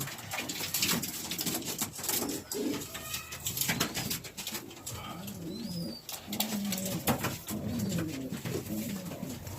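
A racing pigeon coos in repeated low, throaty rolls close by, with rustling and handling noises around it and no talking.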